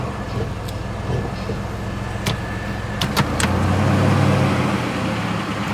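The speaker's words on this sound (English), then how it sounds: "Truck runs." A GMC Syclone truck with an automatic transmission idles nearby with a steady, deep engine rumble, punctuated by a few sharp clicks and taps, and grows slightly louder toward the end.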